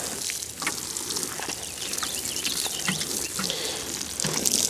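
Water pours steadily from a roughly four-liter watering can onto garden soil where beans are being planted, a continuous close splashing trickle with no talk.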